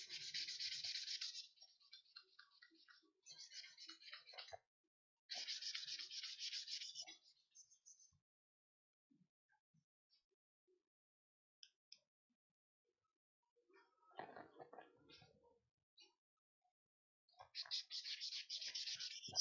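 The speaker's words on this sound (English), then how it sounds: "The colors are really starting to pop as I sand this." Sanding of a stabilized, dyed wooden handle for a wa-style knife in a workshop: bursts of close, dry scratchy abrasion in several separate passes, with quiet gaps and faint tapping between them.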